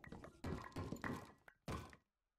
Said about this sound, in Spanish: No sé para qué toca la puerta si al final va a entrar como quiera.